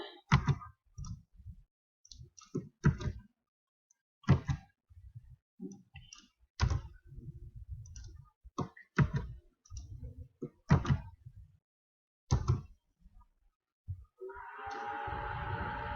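A website address is typed on a computer keyboard: scattered bursts of sharp key clicks with irregular pauses between them, close and alone, ending in a short stretch of steady hiss.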